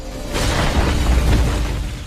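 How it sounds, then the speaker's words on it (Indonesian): A big animated explosion bursts out of a magical portal, a loud sustained rumbling boom with debris-like crackle that fills about two seconds without any talking. "dari dalam portal kemudian muncul energi dan berakhir dengan sebuah ledakan"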